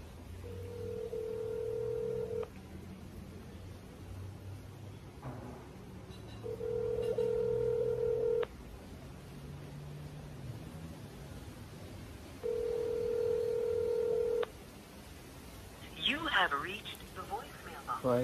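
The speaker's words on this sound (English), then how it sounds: "So, I'm going to call somebody else again and see." A telephone call being placed gives three long, steady ringback tones, each about two seconds with long gaps between them, heard over low background noise and a voice.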